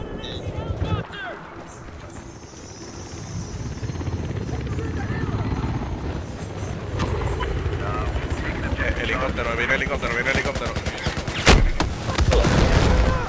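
A helicopter in the video game Battlefield 4 drones with rotor noise amid bursts of gunfire and explosions, while players talk over the action.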